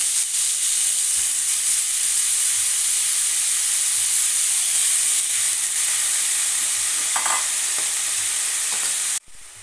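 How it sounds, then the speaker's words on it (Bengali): Grated papaya frying in hot oil in a wok with bay leaves, a steady loud sizzle and hiss running throughout, with faint stirring scrapes, cutting off abruptly at the end. "কুড়ে রাখা পেঁপেটা দিয়ে দিলাম কড়াইয়ের মধ্যে"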